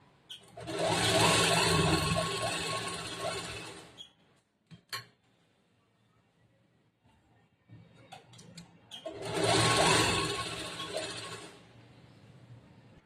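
A sewing machine stitches a blouse in two loud, steady bursts of whirring motor noise, each lasting a few seconds, separated by a quiet pause filled with small clicks and handling sounds.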